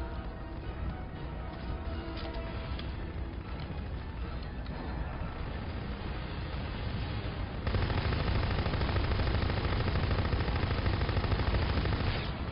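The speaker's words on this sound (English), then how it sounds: "That's taking a lot of bullets to kill him." Rapid bursts of automatic gunfire fill a video game battle, dense and continuous, turning louder and harsher partway through, with no voices.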